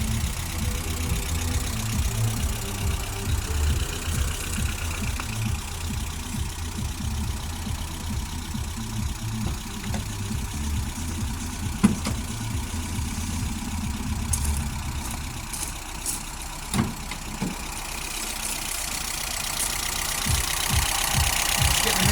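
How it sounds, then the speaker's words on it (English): Vauxhall Vectra Ecotec engine idles with dry valve stems after sitting unused, a steady low rumble with a rapid, light tapping from the valvetrain running throughout, loud and close, with a few sharper clicks. "It sounds a bit tappy, it's just the valve stems are a bit dry, it's not been started for a while."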